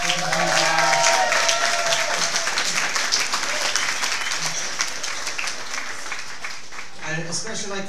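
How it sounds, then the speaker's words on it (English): Applause from the audience at an Atlanta Silverbacks event at the Hard Rock Cafe, a dense wash of clapping that swells early and tapers over several seconds, with a voice and some cheering mixed in at the start. "Let's give a round of applause for the guys working"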